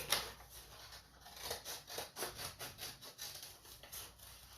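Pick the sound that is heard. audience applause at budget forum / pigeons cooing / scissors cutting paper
scissors cutting paper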